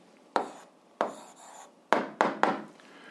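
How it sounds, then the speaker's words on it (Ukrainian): A pen writes down an answer to an algebra exercise in quick scratchy strokes, five separate bursts of varying length close to the microphone, with quiet pauses between them. "Записуємо відповідь, пишемо відповідь."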